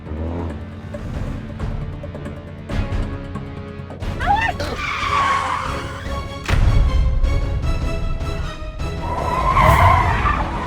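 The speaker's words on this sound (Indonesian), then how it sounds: "ada suara mobil direm begitu Pak" A car engine runs steadily as tires squeal sharply in two bursts of braking and skidding, loud and close.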